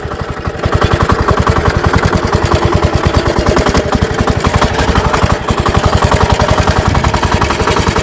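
A homemade motor tractor built from a walk-behind tractor runs its engine loudly and close by, a fast, even single-cylinder chugging that goes on for the whole stretch with no talking.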